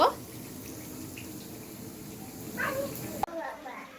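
Water is poured into rice being fried in a cooking pot for pulao, a steady splashing rush that begins sharply and runs for several seconds, with a brief clatter near the end.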